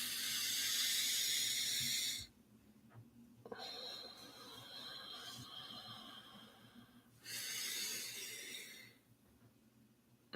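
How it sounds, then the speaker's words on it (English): Long, slow exhales through pursed lips, like blowing out a candle, come as two loud, airy hissing breaths close to the microphone, separated by a quieter stretch of softer breathing. "breathe with long, slow exhales through pursed lips, like blowing out a candle"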